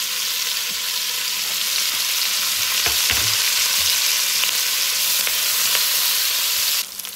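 One large onion frying in a pan for a birria-style beef short rib dish, giving a steady, loud, close sizzle with faint stirring scrapes throughout and no talking.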